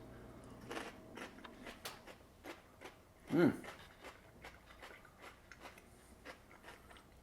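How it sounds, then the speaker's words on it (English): Someone bites into a crispy raw carrot served alongside oven-baked buffalo wings, one sharp close crunch midway followed by quieter chewing clicks, with faint talk in the background. "I have to try a nice crispy carrot."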